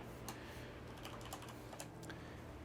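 Keys clacking on a computer keyboard in quick, irregular bursts of taps, faint and close, over a steady low hum with no voices.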